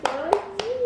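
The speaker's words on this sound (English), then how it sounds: "Clap your hands." A few sharp hand claps land at a steady, spaced rhythm close by indoors, set against a steady higher tone and faint background voices.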